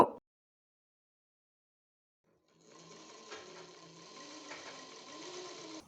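A sewing machine stitching a saree fall on old cotton fabric runs alone after a silent pause, a soft, steady mechanical rattle with faint rhythmic ticks for about three seconds.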